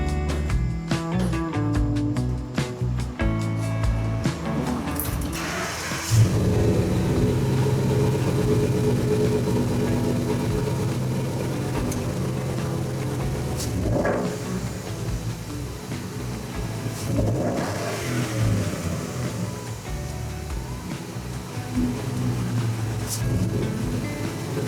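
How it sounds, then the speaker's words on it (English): A Ford F-150 engine after intake work cranks, fires and settles into a loud idle, then revs in a few swells, heard close with steady mechanical rumble throughout. "we are ready to fire the engine."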